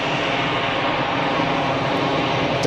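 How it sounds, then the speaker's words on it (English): An easyJet Europe jet airliner at Geneva Airport starts its takeoff roll, with a steady, loud, broadband engine roar that holds evenly throughout and no voices over it. "And then outbound, just about to start rolling, easyJet Europe."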